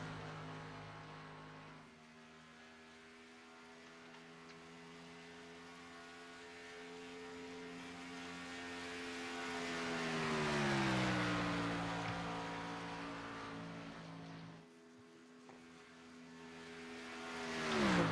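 A stock car engine drones steadily on track in a racing video game, a Michigan oval race, its pitch sweeping up and down as the car laps, with a brief drop near the end before rising again.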